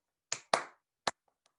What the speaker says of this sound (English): say your question in your head and your answer in your head, but clap what you would say